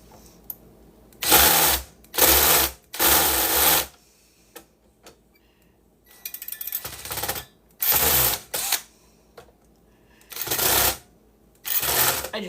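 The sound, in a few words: electric drill drilling while scrapping computer blade servers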